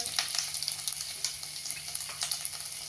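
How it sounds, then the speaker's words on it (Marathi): Ginger and spices hit hot cumin tempering oil for sabudana khichdi, giving a steady, fairly soft sizzle with a dense bed of fine crackles and pops throughout. "आणि जिरं चांगलं तडतडलं फुललं की मग बाकीचं साहित्य। आलं घालतेय"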